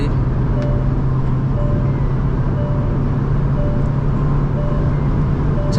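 A tuned car pulling hard in sixth gear on a high-speed run, heard as a loud steady engine and road drone from inside with a constant tone and wind roar, no talk.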